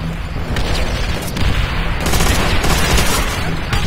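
Sustained machine gun fire in the PC game Call of Duty: World at War, a loud, dense, continuous barrage of rapid shots with booming impacts mixed in.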